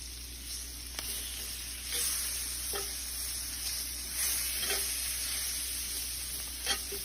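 Onions and all-purpose flour cooking down in a pan for gravy, giving a soft, steady sizzle with intermittent scrapes and taps of a utensil stirring against the pan, fairly quiet and with no voices.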